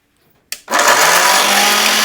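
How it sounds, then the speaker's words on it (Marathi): A kitchen mixer grinder switches on with a short click and jolt, then spins up into a loud, steady high whir as it grinds a mixture of ingredients into powder. "तर हा लावलेला आहे आपण मिक्सर."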